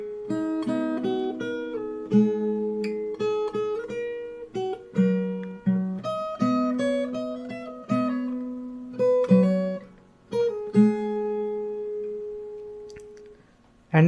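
Fingerstyle acoustic guitar plays the opening melody of a song, with plucked notes over steady bass, close and clear, with no voice.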